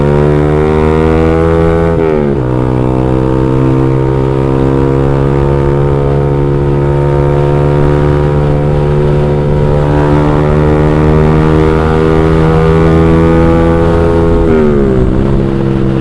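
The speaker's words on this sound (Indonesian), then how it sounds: "walaupun knalpotnya silinsernya pendek, cuma 15 cm, tapi karena full sarangan jadi suaranya masih adem" Motorcycle idling and revving through a short 15 cm X1Speed Pro One exhaust silencer with full baffle packing, a steady loud deep drone with two brief dips in revs, no voices.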